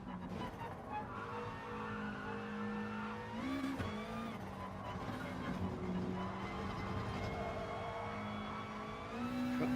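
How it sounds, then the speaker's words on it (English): Race car engines scream at full throttle in Gran Turismo Sport, sustained high-revving whine with pitch shifts as gears change, other cars droning nearby and tires squealing faintly. "Full throttle, pedal to the metal."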